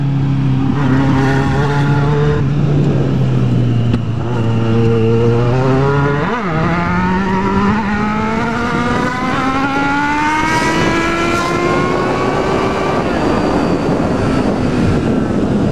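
A Kawasaki Z750 motorcycle engine drones steadily and close, its pitch dipping then climbing as the bike accelerates, with no talking over it.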